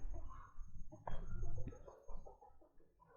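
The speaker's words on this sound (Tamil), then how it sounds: "இந்த கோழி கத்துது இல்லை, அது இயல்பு கத்துது" A chicken clucks and squawks in several uneven bursts close by, mixed with some low background noise.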